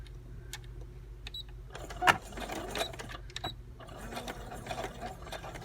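A sewing machine stitching an envelope pocket for a paper craft project, a faint, fast mechanical whirring with light ticks and clicks, steady and low in level with a brief louder knock partway through.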